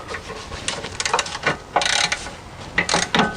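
A hand ratchet clicks in short, close bursts as caliper bracket bolts are tightened on the rear brake of an E53 BMW X5 during a wheel bearing job.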